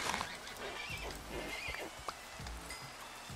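Horses in the steampunk video game whinny over soft shuffling hooves, a few neighs rising above a hissy ambient background, fairly faint and without voices.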